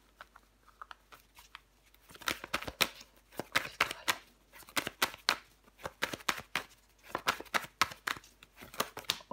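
Tarot cards are handled and laid down in quick, close rustles and soft slaps, starting sparse and then growing into dense, busy bursts of card flicking.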